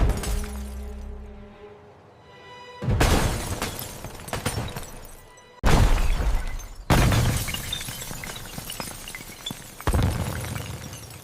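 An old glass barn window shatters in several loud crashes with tinkling debris, separated by brief pauses, close and sharp.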